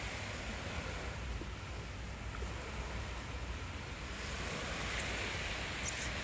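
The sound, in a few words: sea waves at night by Acre city wall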